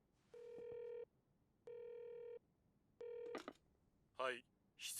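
A telephone in an anime episode rings three times in evenly spaced electronic bursts, clear against quiet, followed by brief voices.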